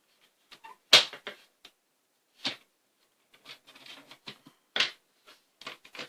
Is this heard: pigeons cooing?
no